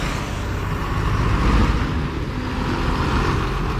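A truck rolls past on the Panvel highway with a loud, close, continuous roar of engine and tyres over general road noise, swelling briefly at its nearest point, no talking.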